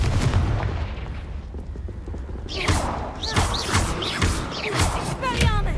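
A Confringo fire spell is cast in Hogwarts Legacy, bursting into a series of sharp, crackling blasts and thuds over a loud, rumbling game background, several impacts in quick succession.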